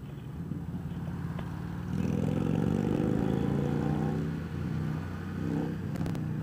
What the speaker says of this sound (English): I got them pipes sounding good on that thing.